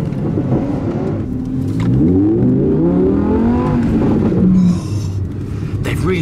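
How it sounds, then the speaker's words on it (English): An Audi R8 V10 Plus accelerates on a race track, its engine note rising in pitch through a long sweep, then easing off, close and fairly loud. "Really improved the engine note on this car."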